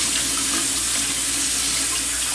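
Steady tap water runs into a sink while sushi rice for California rolls is rinsed by hand, a continuous close splashing hiss with no talk.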